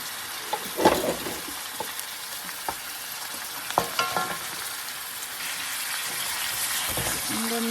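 Beef fries in a hot pan with a constant close sizzle, while a spoon scrapes and stirs it in scattered taps and knocks across the whole stretch.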